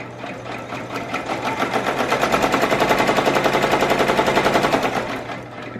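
Embroidery sewing machine stitching a Christmas bow appliqué, a fast continuous rattling needle hammer that runs steadily up close for several seconds.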